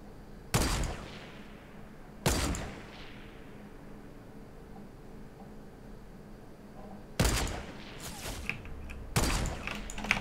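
Four sharp, loud gunshots with decaying echoes from the game Fortnite, two early and two close together near the end, over quiet background with faint clicks.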